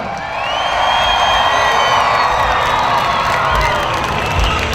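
A large crowd at a fair monster truck show cheers and shouts continuously, a dense, loud roar with whoops and high children's voices, sustained throughout without pause.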